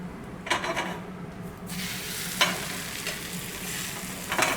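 Potato rösti sizzles steadily in hot butter and oil in a pan, a close, continuous fry that brightens after the first couple of seconds, with a few sharper crackles and spatters along the way.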